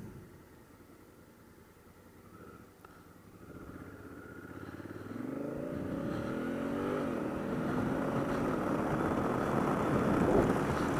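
A 2016 Honda Africa Twin motorcycle on a ride, its engine rising from a low idle into a steady, louder drone as it pulls away and accelerates, with wind rushing over the microphone and no talking.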